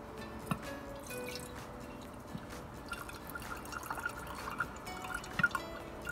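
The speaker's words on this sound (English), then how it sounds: "we've got to try and pour this off into the jar" Homemade buttermilk from churned cream pours off into a jar, heard as faint scattered drips and small liquid trickles over a quiet background, with sharper drops near the end.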